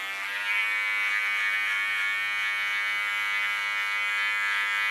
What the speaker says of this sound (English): I put my clipper in a common position, blades on 3 millimeters